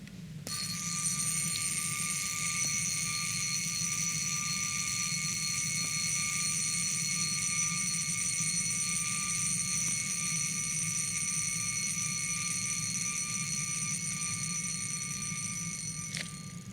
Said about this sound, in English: There is no other alarm watch on the market sounding as good, as warm, as nice, as loud as the Jaeger-LeCoultre does.